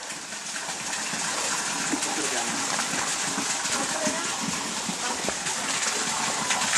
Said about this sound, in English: Here's the big waterfall where you can take a shower.